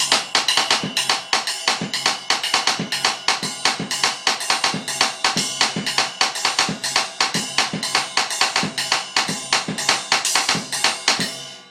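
Drum kit playing a songo rhythm at a fast tempo, a steady, busy groove of bright cymbal strokes over snare and bass drum hits, loud and close with no talking.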